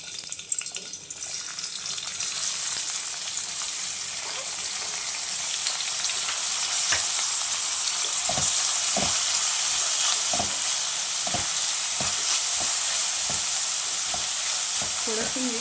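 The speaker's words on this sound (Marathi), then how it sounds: "आता मी इथे कांदा घालते" Onion frying in oil in a pan: a loud, steady sizzle that holds throughout, with occasional soft scraping clicks of stirring.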